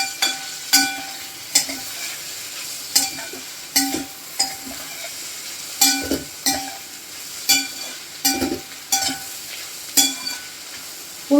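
Kurdai vegetable dish is stirred in a pan, a spoon scraping and clinking against the metal in a regular rhythm of about a dozen knocks over a soft, low sizzle.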